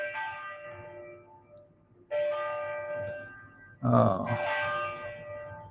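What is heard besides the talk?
church bells ringing in the background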